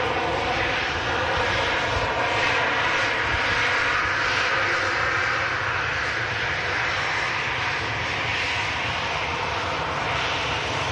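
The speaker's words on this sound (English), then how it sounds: "Ryanair 737, Irish designated aircraft." A Ryanair Boeing 737 on final approach, its engine roar loud and steady as it flies past, broadband and sustained the whole time, with no voices.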